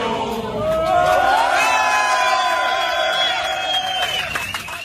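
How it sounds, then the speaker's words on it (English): Crowd leaving the Stade de France after the Paris attacks, many voices singing La Marseillaise together in loud sustained chant, echoing around the stadium exit with scattered shouts. "As the crowds left the Stade de France stadium after the attacks there, they sang La Marseillaise."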